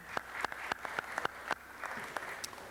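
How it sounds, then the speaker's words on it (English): Scattered, sparse claps at a city council meeting, greeting a newly confirmed commissioner after a unanimous vote; a handful of distinct hand claps spread over a few seconds, fairly faint in a quiet room. "Please give our Commissioner a round of applause."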